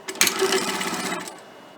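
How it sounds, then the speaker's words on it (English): A sewing machine runs a short burst stitching a seam on fabric for a remote control organizer, with a quick back stitch at the top; close, brief mechanical whirring lasting about a second, then stopping. "So sewing up along that line, giving that top a quick back stitch"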